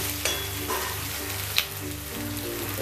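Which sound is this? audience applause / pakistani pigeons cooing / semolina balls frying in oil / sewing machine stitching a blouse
semolina balls frying in oil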